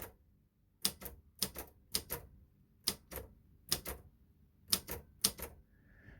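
Mechanical typewriter keys strike in short clustered bursts, several sharp clacks with pauses between groups, close and fairly loud, ending with a brief ring-like tone at the end, with no talking.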